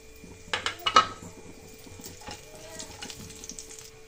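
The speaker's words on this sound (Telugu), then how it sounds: "ఇప్పుడు ఇందులో కిస్మిస్ వేసుకుందాము." Raisins tipped into a metal pan of roasting cashews, with a quick run of loud clattering and clinking, then softer scraping as the pan settles.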